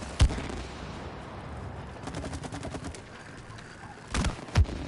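Scattered gunshots in the co-op video game It Takes Two, with a couple of sharp, loud bursts standing out above a busy background of game effects and faint bird-like sounds.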